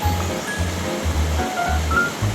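Mountain stream water rushing through Okgye valley, a loud continuous wash of flowing water close by, with low rhythmic thumps underneath and no talking.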